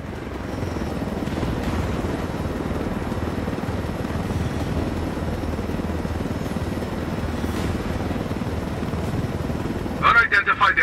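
A helicopter in the video game Tom Clancy's Ghost Recon Wildlands makes a loud, steady rotor and engine roar that fills the whole stretch. Near the end a rapid, pulsing chop breaks through.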